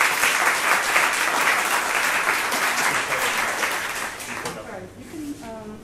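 A crowd at a Fuckup Nights event in Singapore applauds a speaker with a dense, steady wash of clapping that fades toward the end, with a few voices emerging as it dies down.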